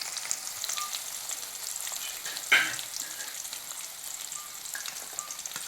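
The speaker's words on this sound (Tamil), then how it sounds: "வெங்காயம் வந்து பார்த்திங்கன்னா நல்லா பொன்னிறமாக சிவக்கிற வரைக்கும் வதங்க விடுங்க." Chopped onions frying in a pan until golden for masala rice, a constant close hiss of sizzling oil with one brief louder clink of a utensil partway through.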